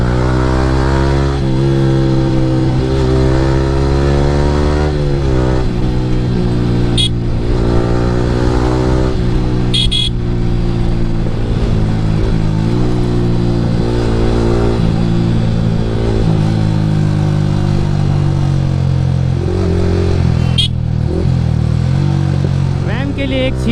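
A Yamaha R15 V3 motorcycle fitted with an Akrapovic R9 exhaust roars loudly on a morning ride, its engine revving up and down through the gears with a raspy, pulsing exhaust note throughout, and a voice speaks at times.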